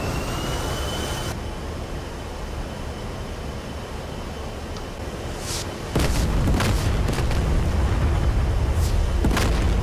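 In an A-10 flight simulator game, a steady jet cockpit drone carries a Maverick missile launch and impact: a sharp change near the start, then a louder booming explosion with several crackling bursts that linger through the end.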